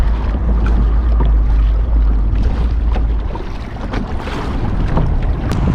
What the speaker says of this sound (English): Do you see this wind? This is crazy.